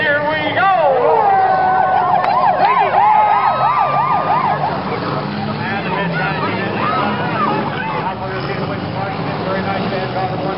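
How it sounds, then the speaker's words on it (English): A loud wailing emergency-style siren signals the start of a compact-car demolition derby at a county fair racetrack, rising and falling over crowd noise and engine rumble. "at the sound of the siren, here we go!"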